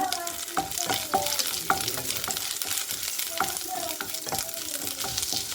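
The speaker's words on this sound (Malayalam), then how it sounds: "ഈ ഇഞ്ചി ഒന്ന് മൂത്ത് വരുമ്പോഴത്തേക്ക് ഇതിലേക്ക് ഒരു തണ്ട് കറിവേപ്പില ഇടുക" Crushed ginger and curry leaves fry in hot oil in a pan for rava pongal, a close, continuous crackling sizzle broken by small pops and stirring clinks, with no one speaking.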